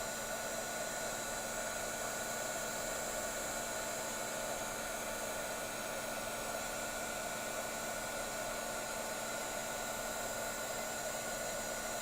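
A heat gun blows steadily while melting embossing powder on a craft project, giving a quiet, unbroken whooshing hiss that holds at an even level throughout, with no talking.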